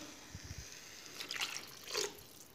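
Half a glass of water poured into mashed pav bhaji in a pan, a faint, brief splash and trickle in a couple of soft bursts, close and otherwise quiet.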